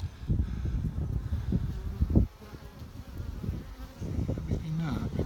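Honey bees buzzing around an open hive at Rancho Cielo, a steady droning swarm with low rustling and handling bumps underneath, close and fairly loud throughout.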